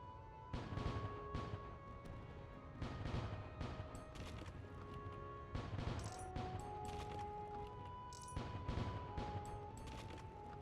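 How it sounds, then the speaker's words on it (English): Ship cannons in the space-sailing game Void Sails fire at floating crates near islands, a run of loud booming shots in irregular bursts over a steady musical background, with no talk. "See those floating crates around the islands? Aim our cannons and show 'em what you got."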